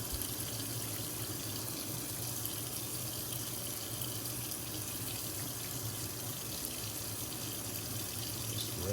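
Kitchen tap water running steadily into a sink while knife scales are washed, a continuous even splashing hiss close by with no pauses.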